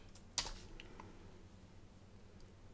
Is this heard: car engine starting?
no